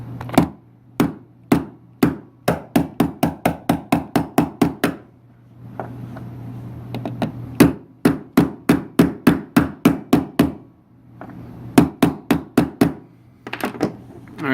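Rapid series of sharp metallic taps in bursts, a multi-tool striking to drift the front sight out of a Glock 17 slide without a hammer, near the listener, with short pauses between runs of blows.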